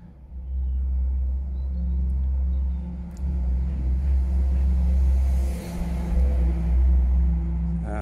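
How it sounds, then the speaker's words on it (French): Cars pass along a residential street outside a house, a continuous low rumble of traffic that swells and fades as vehicles go by, moderately close, with no voices. "vous risquez d'entendre des voitures passer"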